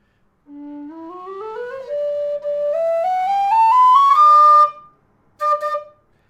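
A low D whistle plays a rising run of notes, climbing steadily to a high, bright, harmonic-rich third-octave D, then a short final high note after a pause.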